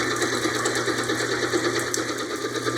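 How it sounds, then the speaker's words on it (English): An electric mixer whips egg whites with vanilla in a bowl, giving a steady, continuous whirring hum at high speed with no pauses and no talk. "The egg whites with our vanilla go in the bowl, and we're going to start whipping on medium speed."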